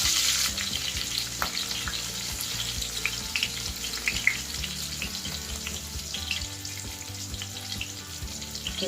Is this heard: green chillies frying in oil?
yes